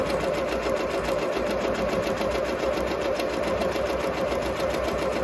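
A Ricoma 1010 embroidery machine stitching letters, used again after two years: a loud, steady, fast mechanical whirring and needle chatter that runs without pause and without talk.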